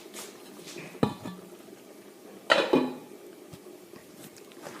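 A lid placed over a cooking pot of village-style chicken liver and gizzard curry, two distinct metallic clanks a second and a half apart over a faint background hiss, close by.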